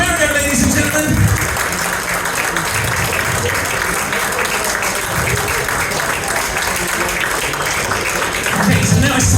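A corporate dinner audience gives a round of applause during a mind-reading act, a continuous wash of clapping with crowd murmur and cheering, steady and full across the room.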